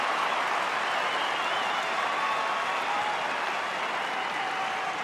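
A large Essendon crowd applauds and roars after a goal at an Australian rules football match against West Coast, a dense, steady wash of clapping and cheering that holds loud for the whole stretch.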